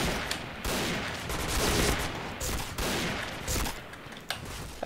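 Gunfire in the video game Point Blank: repeated rapid bursts of automatic shots in a dense, crackling fusillade, loud and continuous with brief pauses between volleys.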